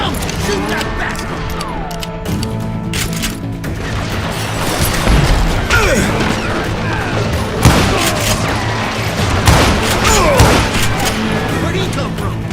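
Gunfire and booming blasts in the Wild West shooter Call of Juarez: Gunslinger, with loud repeated shots and crashes over a constant mix of game music and effects, and voices talking throughout.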